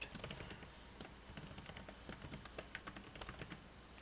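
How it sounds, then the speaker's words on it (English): Rapid light taps on an Android phone, most likely a Samsung, as a passcode is entered. The clicks come in an uneven run close to the microphone, with no talking. "first I need to type in my passcode"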